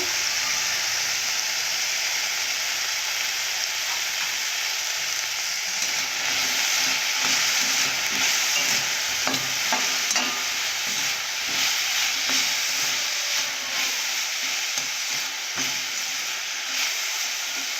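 Okra sizzles steadily in hot oil in a pan, a constant bright hiss with occasional crackles and stirring clicks, close and even, no voices.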